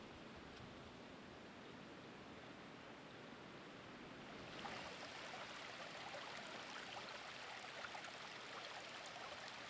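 Brook flowing near Jawbuck Reservoir in East Longmeadow, Massachusetts, a steady broadband rush of running water heard close by with no voices, growing a little louder and brighter about halfway through.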